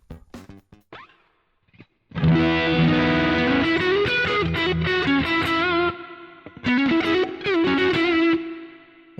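Electric guitar played through a Boss GT-1 multi-effects unit with reverb and no delay: a few muted plucks, then sustained distorted chords and picked notes ringing out with a reverb tail, twice briefly stopping and resuming.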